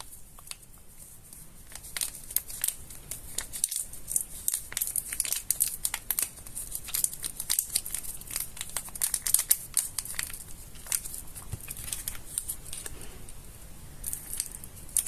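Paper is cut and crinkled by hand during coffee-painting craft work, giving soft, close, irregular snips and rustles that continue quietly throughout.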